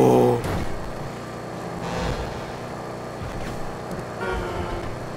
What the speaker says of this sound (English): I gotta say, I like the turbo sounds. Well, it sounds like a supercharger to me.